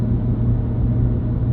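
Low, steady engine rumble from a 2019 Nissan GT-R, a loud, close, continuous droning growl with no voices.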